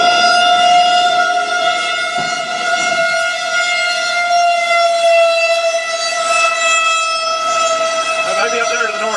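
Civil defense tornado warning sirens wail during a Nebraska storm chase, a steady layered tone with strong harmonics that seems doubled or echoing, sounding at a distance with low vehicle rumble and faint voices beneath.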